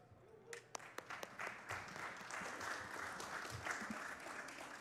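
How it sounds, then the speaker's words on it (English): A conference audience at a security event bursts into applause after a few scattered early claps, building into steady, dense clapping that fills the room at moderate distance and continues without talk. "So let's give her a big round of applause."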